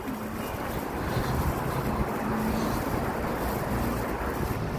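Strong wind buffeting a microphone outdoors on a hot day, a steady, loud, broadband rush with gusty swells throughout and no talk.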